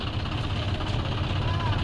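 A tractor engine running steadily close by, a continuous low throbbing drone with no breaks over the short stretch.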